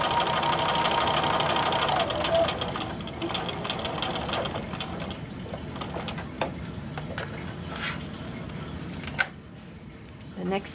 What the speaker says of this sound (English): what we're going to do is just continue to sew all along that little strip of bias tape